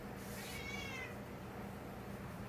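A house cat gives a single short meow near the start against a steady low background hum, then quiet.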